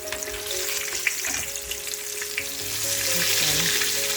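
Chicken cordon bleu frying in a pan over a medium-low flame, a steady close sizzle and crackle that swells slightly louder toward the end, with a low hum beneath and no talking.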